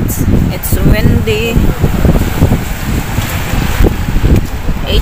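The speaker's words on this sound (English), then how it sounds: "It's windy." Steady wind rushes and buffets the microphone outdoors on a street near the Mercat Central in Valencia, Spain, in spring, with rustling and faint talk beneath it throughout.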